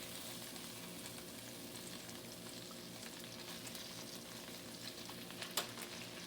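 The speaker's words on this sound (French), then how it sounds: "نوضع الجمبري في مقلاة على نار ساخنة." Shrimp fry in a hot pan, giving a faint, steady crackling sizzle that carries on evenly, with a brief sharper pop near the end.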